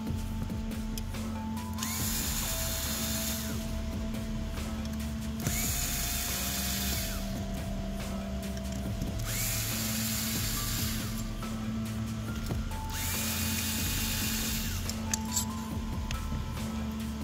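A power driver with a 2.5mm Allen bit backs screws out of an FX Impact airgun's rear block, giving repeated whirring, ratcheting runs of a few seconds each, close and steady, with brief pauses between them.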